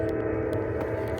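Freight train M558 approaching on the Old B&O railway line in the early morning, a continuous heavy low diesel rumble and drone with faint metallic clicks, steady and fairly loud throughout.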